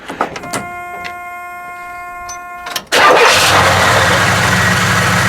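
A 1972 Buick GS 455 cranks and fires after a few seconds of quiet electrical tones, then settles into a loud, steady, rumbling idle close by, with no talking.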